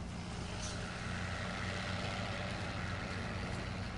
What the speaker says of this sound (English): It's nice to hear an actual, like a proper old school, just meaty roaring engine